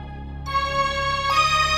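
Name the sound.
phone ringtone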